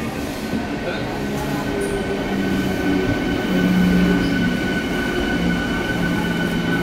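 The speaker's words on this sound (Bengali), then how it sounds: "এই যে আমাদের ট্রেন চলে এসেছে।" A train pulling into a station gives a loud, steady rumble of rolling cars with a faint high whine, and people's voices murmur beneath it throughout.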